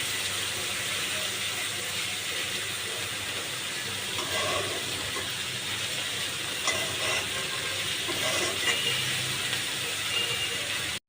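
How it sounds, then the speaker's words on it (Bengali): Onions fry in a pan for fish bhuna, giving a steady, close, broadband sizzle and hiss that holds evenly throughout before cutting off abruptly at the end. "এখন ভেজে নিচ্ছি পেঁয়াজ"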